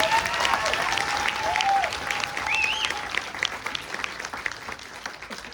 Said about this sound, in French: Est-ce qu'on pourrait les applaudir encore une fois ?